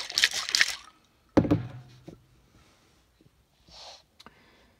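A jar of homemade copper mordant solution for natural dyeing is shaken: brief rattling splashes, then a sharp knock, and faint liquid sloshing trailing off, close and with no talk.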